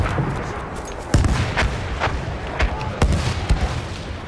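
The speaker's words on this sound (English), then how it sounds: "Enemy coordinates have been sent to our artillery." Artillery shells land during a Battlefield 1 Rush match, several sharp booming impacts spaced about half a second apart over a constant rumble of battlefield noise and gunfire.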